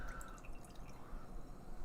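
Space Trash Cobbler, a thick fruited sour ale from Newgrass Brewing Co., is poured into a glass, giving a brief, quiet close-up gurgle and splash of liquid.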